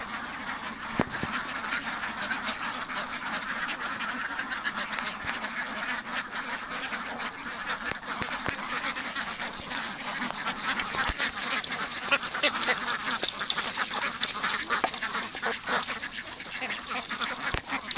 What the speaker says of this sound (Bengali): দেখতে পাচ্ছেন কত সুন্দর করে হাঁসগুলো খাচ্ছে দেখো